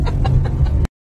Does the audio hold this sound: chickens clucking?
yes